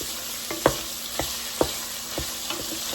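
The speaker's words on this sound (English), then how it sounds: "we're going to let the onions start to get tender and translucent" Onions and garlic sauté in a pot for a fall soup, giving a steady sizzle under several sharp scrapes and taps of a spoon stirring against the pot, with no voices.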